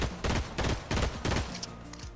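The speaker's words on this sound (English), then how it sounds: "This specific burst pistol is very accurate out to range." A burst pistol in Fortnite firing repeatedly, four loud close bursts of quick booming shots in an even rhythm, followed by fainter clicks and game sounds.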